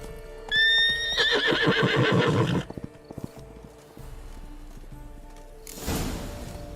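A horse in a video game whinnies loudly with a rising, shaking neigh, followed by snorting breaths and a few hoof clip-clops, then a short rustling burst.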